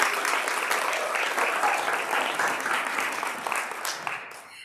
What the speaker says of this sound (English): please, let's just give her another round of applause